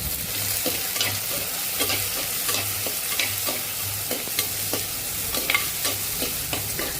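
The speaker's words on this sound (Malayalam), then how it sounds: "തക്കാളി നന്നായിട്ട് ഒന്ന് ഇളക്കി കൊടുക്കുന്നുണ്ട്." Chopped tomato being stirred and sautéed in a pan, with a steady sizzle under repeated scraping strokes of a spoon against the pan, close and alone.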